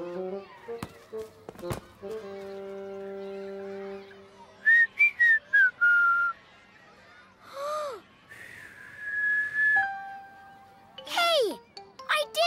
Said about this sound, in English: You learned to whistle.